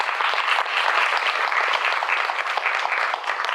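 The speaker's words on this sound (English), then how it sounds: "big round of applause for her." A roomful of people applauds a panelist at a moderated panel discussion, bright steady clapping at moderate volume running unbroken for a few seconds.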